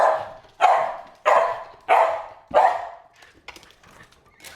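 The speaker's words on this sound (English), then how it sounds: "He was just barking." A dog barks five times in an even, evenly spaced series, each bark loud, sharp and close, followed by a few softer, scattered yips and small sounds as the barking trails off.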